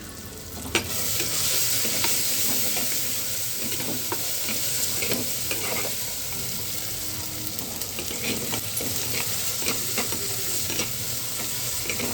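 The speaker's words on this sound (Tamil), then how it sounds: "வெங்காயம் தக்காளி வதங்கிடுச்சு நம்ம குழம்பு தாளிச்சிக்கலாம்" Onions and tomatoes sauté in a pan for a stingray fish curry. A steady sizzle and frying hiss runs throughout, with scattered clinks and scrapes from stirring. No one speaks.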